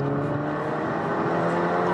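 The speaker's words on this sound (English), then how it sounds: "That's how Alfa Romeo sounds like with the muffler and resonator delete." An Alfa Romeo with its muffler and resonator deleted gives a loud, raspy exhaust drone that holds steady without pause.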